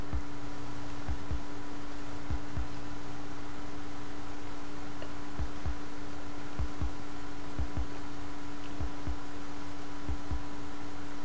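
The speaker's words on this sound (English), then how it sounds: "You ever realize you get heartbeat when you're near another player?" A video game heartbeat cue plays when another player is near: paired low thumps repeat steadily under a constant electrical hum, with no voices.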